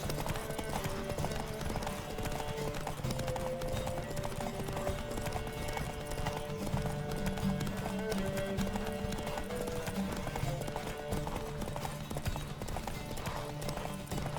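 Galloping horse hooves in a horse race in the video game The Witcher 3, a dense, rapid, continuous clip-clop drumming that holds steady throughout at moderate volume, with no voices.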